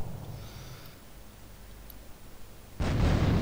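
After a quiet stretch of faint background noise, a sudden loud gunshot in Grand Theft Auto 3 bursts in near the end and rings on.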